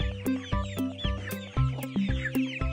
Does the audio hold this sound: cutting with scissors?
no